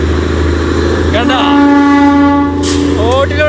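The Darjeeling toy train in West Bengal, running along a road shared with vehicles, sounds its horn in several bending, wavering blasts over a steady loud engine drone, close at hand.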